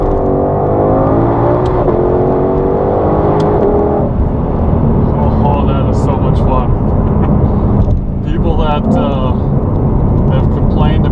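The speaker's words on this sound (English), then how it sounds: "So I'm going to give it some gas here." A 2020 Shelby GT500 with track exhaust and paddle-shifted dual-clutch gearbox accelerating hard, loud engine roar climbing through quick successive shifts, with a voice exclaiming over it.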